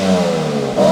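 BMW X3M engine revving with the exhaust valves closed, a brief loud burst of mid-pitched engine drone that dips and rises again within a second.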